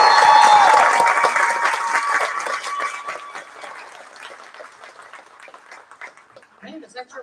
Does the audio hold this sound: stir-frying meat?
no